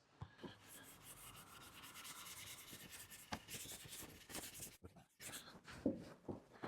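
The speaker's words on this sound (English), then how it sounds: "Put a nice amount of wax on there. I'm going to apply it to the surface, following the grain in straight lines." Wax is rubbed by hand onto a mid-century teak coffee table in straight strokes along the grain, giving faint, close, repeated soft rubbing and swishing sounds with small knocks.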